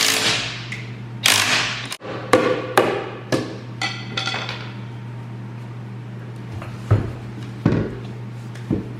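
Sharp metallic hammer blows and clanks ring out at irregular intervals while bolt-on wheel weights are removed from John Deere 1025R tractor tires, some strikes loud and close, others softer, over a faint steady hum.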